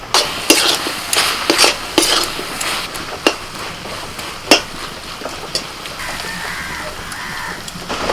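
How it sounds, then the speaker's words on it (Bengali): Cabbage filling for spicy stuffed pithe being stirred dry in an uncovered pan, with loud close scrapes and clatters of the spoon against the pan over a continuous frying sizzle, busiest early and then easing off. "এবার শুধু নাড়াচাড়া করে একটু শুকনো শুকনো করে নেবে"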